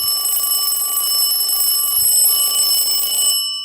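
A Junghans WWII-era German mechanical alarm clock rings loudly and continuously for about three seconds, a bright metallic bell clatter that stops abruptly.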